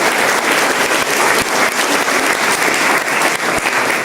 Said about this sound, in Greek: Πιστεύω ότι αξίζει να χειροκρότημα για τις κοπέλες.